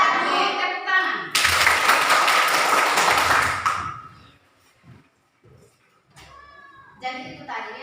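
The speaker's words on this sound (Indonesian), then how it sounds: "Oke, tepuk tangan." Students in a classroom break into a short burst of applause, dense clapping lasting a few seconds between stretches of a teacher talking.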